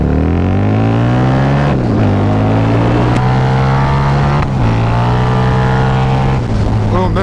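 A cruiser motorcycle engine pulls hard while riding, a loud, close rumbling drone that climbs in pitch through several gear changes, each marked by a brief dip before revving up again.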